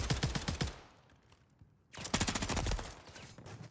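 Rapid bursts of automatic gunfire in a multiplayer shooter match, loud and dense for about a second, a brief lull, then another sustained volley of rapid shots.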